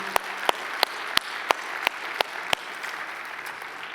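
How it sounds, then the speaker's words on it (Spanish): A church congregation claps together in steady unison, sharp evenly spaced claps under a continuous wash of scattered applause that carries through the room. "Dale un fuerte aplauso al Señor."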